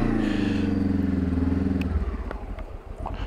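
A Honda CB500X motorcycle turns on a wet single-track trail with the rider working the clutch, its engine note droning low and then breaking into a choppy, uneven burble with light clatter as the revs change.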